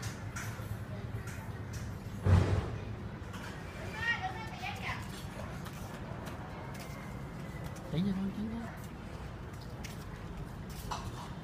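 Pigeons or doves coo faintly in a home yard, soft low calls rising now and then over quiet outdoor ambience, with distant voices and children's chatter in the background.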